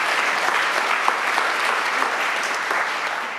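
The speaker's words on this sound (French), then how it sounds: "On peut l'applaudir, Tatiana" A large audience applauds steadily at a corporate EY event in France, a dense, sustained wash of many hands clapping at close range, holding an even level throughout before easing slightly at the end.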